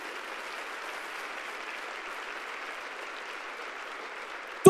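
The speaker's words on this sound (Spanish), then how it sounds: "Diles aplauso bien fuerte a Jesús." Congregation applause during a Spanish-language church sermon, steady even clapping heard from a distance at moderate level, ending in a sharp thump.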